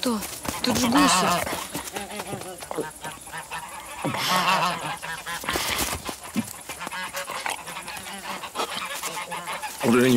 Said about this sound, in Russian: Тут же гуси.